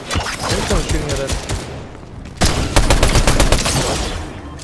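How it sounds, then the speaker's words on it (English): Sustained gunfire in the Fortnite video game near a beach, loud rapid volleys that pause briefly and then resume in a heavier burst, with a voice faintly heard beneath. "I think someone's shooting at us."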